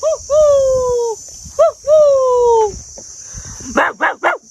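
A person imitates a dog: two long, drawn-out whining howls, then three short, sharp barks in quick succession.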